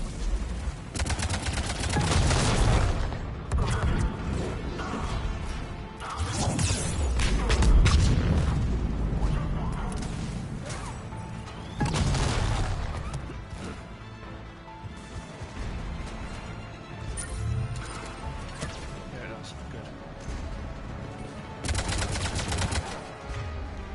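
Engineer's turrets firing in the video game Mass Effect, loud repeated bursts of shots, crashes and booms coming in waves over a sustained stretch of battle noise.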